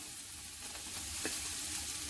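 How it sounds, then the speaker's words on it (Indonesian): Spice paste for mie godog sautés in a pan with a steady, close sizzle, broken once by a soft utensil scrape. "tumis bumbu sampai matang dan harum."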